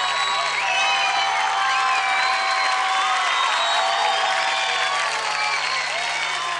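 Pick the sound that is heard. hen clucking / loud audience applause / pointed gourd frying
loud audience applause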